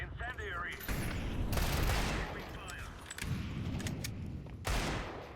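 Gunfire in a Counter-Strike match, a dense run of rapid shots and bursts that stays loud and close across the clip, with a sharper crack near the start and near the end.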